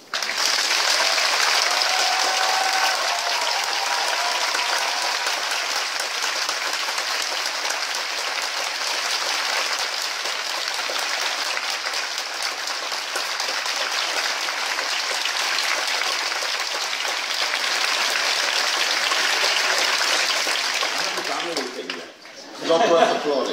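Sustained, loud audience applause greets a guest at a film music festival event in Kraków, a dense wash of clapping lasting about twenty seconds before breaking off abruptly near the end.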